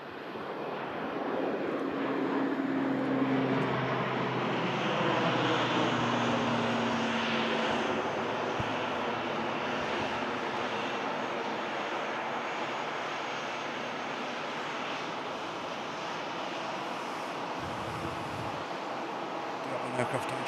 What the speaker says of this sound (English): And there's a prop for Barbara just arriving.